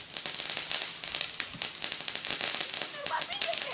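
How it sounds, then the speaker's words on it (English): Fireworks crackle outdoors during a Fourth of July celebration, a dense run of sharp, sputtering pops and snaps lasting the whole stretch, with people's voices faintly underneath. "Fireworks. This one has lasted forever."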